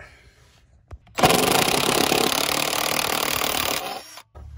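A 10 mm socket working a console bolt in a Jeep JL, a loud, continuous ratcheting buzz lasting about three seconds, preceded by a single click and set in an otherwise quiet cabin.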